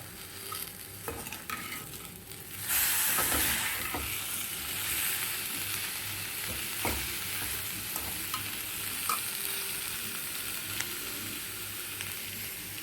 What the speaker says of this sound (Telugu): చక్కగా డ్రైగా వేగిపోవాలి